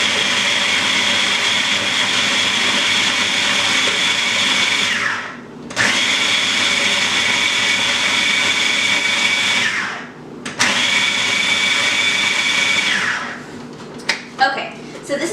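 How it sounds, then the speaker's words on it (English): A food processor grating frozen cheese for homemade dog treats runs in three loud, steady whirring bursts, each with a strong high-pitched motor whine and a brief pause between, then a few clunks as it stops. "put that cheese in the freezer until it's a little stiff and then put it in the food processor"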